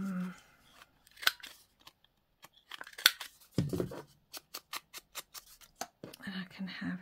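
Scissors snipping craft material in a run of short, crisp cuts, a few scattered snips at first then a quick rhythmic series, close and fairly quiet, with brief faint voice sounds.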